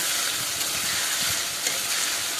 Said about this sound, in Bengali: সেটা দিয়ে আলুগুলো খুব ভালোভাবে কষিয়ে নেব।